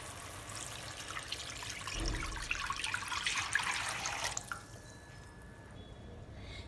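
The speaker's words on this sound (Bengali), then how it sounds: "5 কাপ জল দেব।" Five cups of water pour into chicken gravy in a cooking pot for Afghani pulao, a soft splashing that swells for a couple of seconds and then fades to quiet kitchen hiss.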